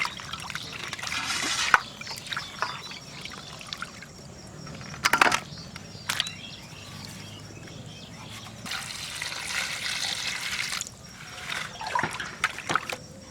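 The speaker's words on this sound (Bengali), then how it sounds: "মাছগুলো আমি ভালো করে 5-6 বার ধুয়ে নেব।" Water trickles and splashes intermittently as catfish (magur) are rinsed by hand, with louder pouring bursts between quieter dribbling, close and alone.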